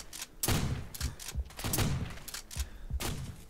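Gunfire in Call of Duty WWII, loud bursts of shots and heavy thuds repeating about every second across a busy battle mix, close and punchy.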